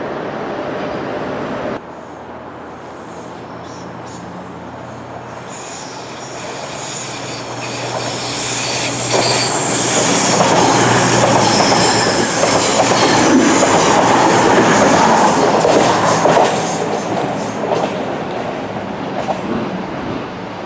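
A Lumo train rolls through Morpeth station on the Northumberland stretch of the East Coast Main Line, its rumble building from a low hum into a loud, sustained roar of wheels and rails that fades slightly near the end.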